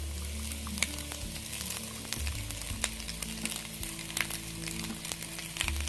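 Cooked basmati rice and vegetables sizzle on a high flame as they are tossed in the pan, the hiss continuous with frequent clinks and scrapes of a utensil, close up and with no talking.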